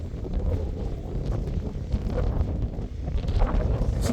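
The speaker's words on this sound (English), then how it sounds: "I hope you can hear me over the wind" Strong wind gusts buffet the microphone on an open moorland edge near a hilltop war memorial obelisk, a loud, continuous low roar that swells and eases with no voice present.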